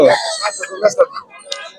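A rooster crows at a busy duck and chicken market, a short call rising over nearby voices and market chatter.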